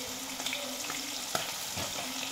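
Taro leaves with turmeric powder, salt and a little water being stirred in a pot, a steady bubbling sizzle with scraping spoon strokes and a few louder knocks against the metal, close and continuous.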